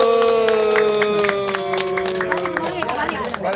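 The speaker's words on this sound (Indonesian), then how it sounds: "Tepuk tangan dulu." Applause breaks out at a prize-giving ceremony for a virtual tournament, a short burst of clapping from a small crowd mixed with chatter and a loud sustained tone, fading into scattered claps.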